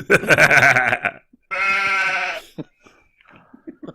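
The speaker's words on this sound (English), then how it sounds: "So that sheep gets louder and louder every time it plays." A sheep bleat used as a horn sound rings out twice, loud and close, each lasting about a second, followed by a few faint clicks and rustles.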